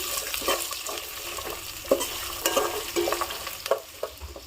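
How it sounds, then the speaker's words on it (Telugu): Slit green chillies and chopped onion frying in oil in a pan for Telangana bagara rice, a constant close sizzle with repeated scraping stirs of a spatula, no talking. "వీటిని బాగా వేయించుకోవాలి"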